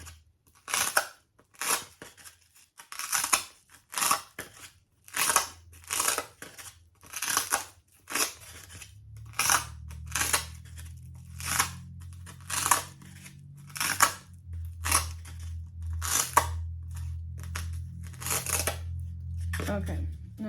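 Scissors repeatedly snip down material for a money bouquet, sharp crisp cuts coming in a quick irregular series, close and loud, over a low background hum.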